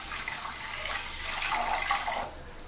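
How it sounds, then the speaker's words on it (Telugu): Water pours steadily into a pan of sugar on the stove to make syrup, a rushing splash lasting about two seconds before it abruptly stops. "1 గ్లాస్ వాటర్ పోసుకోవాలండి."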